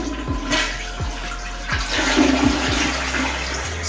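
A toilet flushes and its tank refills, water rushing and hissing steadily close by, with a few low knocks from the pipes, and no one speaking.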